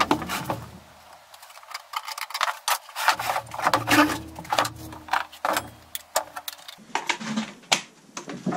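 Recycled pallet wood worked by hand, producing uneven rubbing, rasping strokes with irregular rhythm, close and moderately loud, with no talking.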